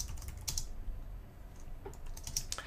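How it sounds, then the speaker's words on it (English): Fingers tap rapidly on a computer keyboard, close and crisp, with a few louder key strikes among a steady run of clicks and no talking. "I'm gonna go ahead and use the enter key on my keyboard to move down"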